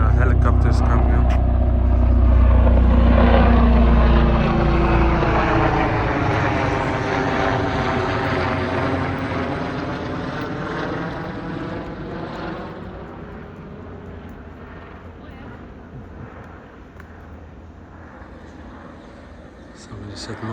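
A helicopter roars loudly overhead at a cherry blossom tunnel in Soest, its engine drone slowly fading as it passes, with a steady low rumble throughout.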